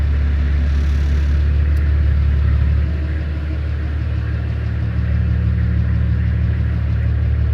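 Car nicknamed Ron Burgundy, a turbocharged build with a big snorkel and aftermarket exhaust, idling steadily with a deep, loud low rumble and a slight dip in level partway through, close up with no talk.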